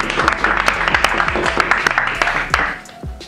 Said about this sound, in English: Please give a big round of applause for me.